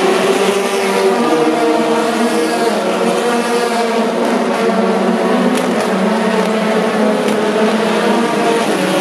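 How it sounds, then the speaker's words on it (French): Race cars at the 2016 Le Mans 24 Hours accelerating at full power after a restart, a loud, dense and continuous engine roar with layered high-pitched whines that holds steady throughout. "les voitures vont pouvoir ainsi accélérer pleine puissance sans qu'il y ait une voiture safety car"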